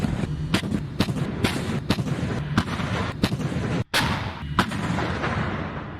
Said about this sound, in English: The ground shakes as the mighty M109 Paladin rolls onto the battlefield, ready to unleash its devastating firepower.